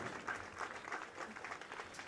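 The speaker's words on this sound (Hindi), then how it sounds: "जोरदार तालियों से मुख्य अतिथि महोदय का अभिनंदन करें" Clapping from a crowd welcoming the chief guest at an army academy passing-out parade in Srinagar, moderately loud and continuous for a couple of seconds, with no voices over it.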